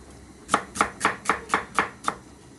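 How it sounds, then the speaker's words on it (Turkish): Seven crisp knife chops through peppers on a cutting board, evenly spaced and close, with no talking. "Aynı şekilde biberleri de doğrayacaksınız"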